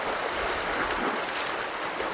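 Rough sea water churns and surges in a dense, continuous roar of waves and surf, loud and close, with a windy wash and no speech.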